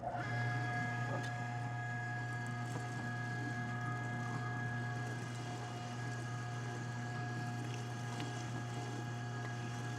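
A 2HP electric meat grinder works through brisket and fat in an 80-20 mix, giving a loud, steady motor hum with a constant whine that runs unbroken and close for the whole stretch.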